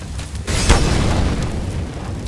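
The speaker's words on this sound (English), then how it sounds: "I'm throwing a flashbang." A flashbang grenade detonates in a tactical shooter with a sharp, loud boom that settles into a rumbling, hissing wash, heard close with no talking.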